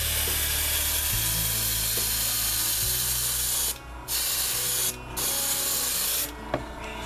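A Comanche truck body gets a spray-painted coat, a loud continuous hiss of the spray gun with a low mechanical hum underneath, briefly cut off in short gaps as the trigger is released and pressed again.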